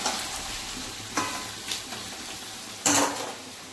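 Food frying and sizzling in a pan with a soft continuous crackle under several sharper scraping strokes as a utensil stirs, close and fairly quiet.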